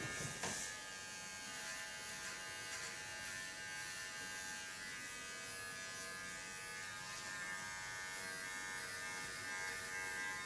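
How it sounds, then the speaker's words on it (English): Electric hair clippers buzz steadily while cutting short hair, faint and continuous, with a few soft clicks and rustles over the drone and no talk. "I hold my clipper upside down, and this I do because I get stronger lines then, and cleaner lines"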